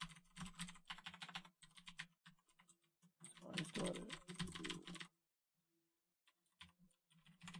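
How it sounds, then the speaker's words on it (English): Rapid typing on a computer keyboard, dense bursts of key clicks close to the microphone during a livestream, pausing briefly before resuming in shorter spurts, with a low hum underneath. "I shouldn't be typing messages."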